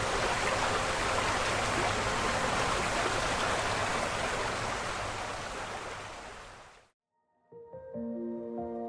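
Loud, steady roar of monsoon floodwater pouring down Keramkund Waterfalls in Malappuram, continuous and overwhelming, cutting off abruptly near the end.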